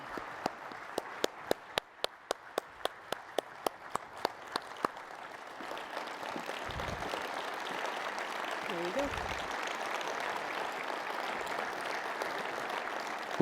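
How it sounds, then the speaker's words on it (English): An audience applauds Dr. Harvey J. Sugerman after the 2018 ASMBS Mason Lecture. A few sharp, evenly spaced claps come first, then they swell into dense, sustained applause with faint voices underneath. "Please help me in giving Dr. Sugerman a warm round of applause."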